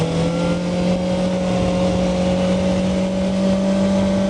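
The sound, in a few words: Kawasaki ZX-4R motorcycle engine revving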